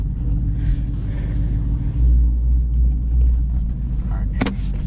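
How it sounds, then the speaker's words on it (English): A 2021 Ford Mustang GT with a 10-speed automatic on an ethanol tune rumbles steadily while driving, a deep loud engine drone heard from inside the car with no talking. "I'm gonna show you guys a little bit of how the car drives."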